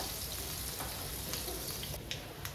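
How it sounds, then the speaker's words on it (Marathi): Sliced garlic fries in hot oil for a dhaba-style dal tadka, giving a steady, dense sizzle with a few faint stirring clicks near the end, close and continuous with no talking. "मी टाकणार आहे ह्यामध्ये उभं चिरलेलं लसूण, आपल्याला हे चांगलं परतायचं आहे."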